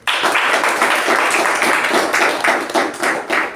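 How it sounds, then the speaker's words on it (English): Toastmasters meeting audience applauding the members who took up roles, a close burst of many hands clapping that rings steadily for a few seconds and thins out at the end. "one last round of applause for every member here who took up a role and did something here"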